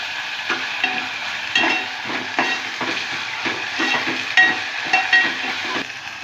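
Broad beans fry in a pan with coconut paste, giving a loud, close, crackling sizzle broken by repeated rhythmic stirring scrapes and spatula knocks.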